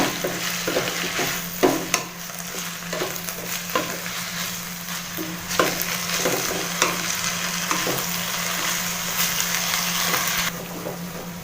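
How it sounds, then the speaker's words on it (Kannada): Amaranth greens (dantu soppu) frying in a hot pan for palya, a steady sizzle broken by repeated scraping stirs of a spatula, close and fairly loud with no talking. "ಒಂದೆರಡು ನಿಮಿಷ ಚೆನ್ನಾಗಿ ಫ್ರೈ ಮಾಡ್ಕೋಬೇಕು ಸೊಪ್ಪನ್ನ"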